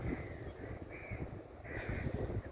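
Crows cawing on Salli island: several harsh, rasping calls repeat against a steady background of wind and surf, somewhat distant and moderately loud, with no talking.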